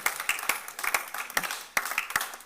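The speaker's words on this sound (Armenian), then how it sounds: "Այ հիմա եկեք ծափահարենք։" Members of a church congregation clap in a fairly sparse, uneven rhythm, with individual sharp claps standing out at a moderate distance and no voices over them.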